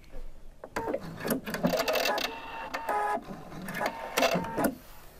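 A sewing machine stitching a facing onto a slit at the centre back of a garment piece, running in short mechanical bursts with brief pauses, close and clear.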